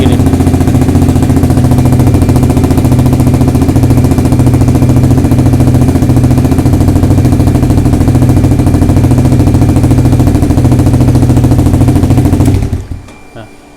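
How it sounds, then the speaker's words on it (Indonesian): A motorcycle fitted with an R9 New Alpha racing exhaust and a dB killer idles close by, giving a steady, loud, low throbbing burble. The rumble runs unbroken for about twelve seconds, then cuts off abruptly. "masih sedikit agak bising daripada knalpot originalnya karena ya tetap aja namanya knalpot racing"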